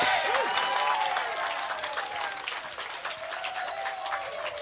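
At a women's pairs final of a lawn bowls open in New Zealand, spectators break into loud applause after a run shot, and the clapping slowly fades over a few seconds.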